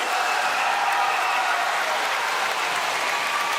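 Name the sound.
school audience round of applause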